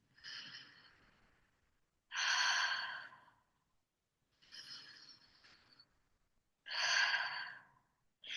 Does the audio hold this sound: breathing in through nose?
yes